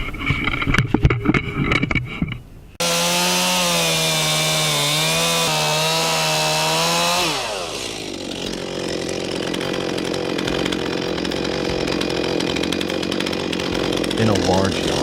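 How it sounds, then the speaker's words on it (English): A chainsaw starts and revs loudly, cutting deep into the trunk of a large, ancient tree that is tied off with ropes in a yard. A steady, high engine whine holds for several seconds, then drops into a rougher, continuous cutting roar. "A worker starts a chainsaw, the blade screeching loudly, digging deep into the trunk."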